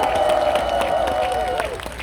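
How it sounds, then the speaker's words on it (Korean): Applause and cheering from a crowd at an outdoor political rally in Korea, dense and steady over about two seconds with a sustained tone and some noise underneath. "큰 박수 주세요."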